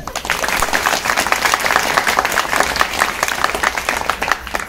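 Women in an audience at a Marathi kirtan clapping loudly, a dense sustained burst of many hands applauding together, close and unbroken for several seconds.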